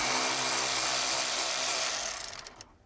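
A 10mm bolt is loosened on a hybrid battery terminal that feeds a Honda IMA system, heard as a short burst of close, gritty metallic ratcheting noise that rattles and fades out within about three seconds.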